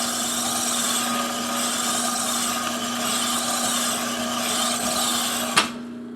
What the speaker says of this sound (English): we're just running the hone through so that it cleans up